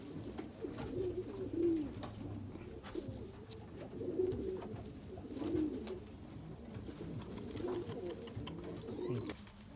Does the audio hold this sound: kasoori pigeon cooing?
yes